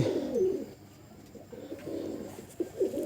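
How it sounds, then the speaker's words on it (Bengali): Low, throaty cooing of a high-flying tumbler pigeon repeats in soft rolling phrases, fairly close, with brief quiet gaps between calls and no talking. "এবার জ্যাক দেখাবো এই লোকটার খুবই একটা ভালো পায়রা"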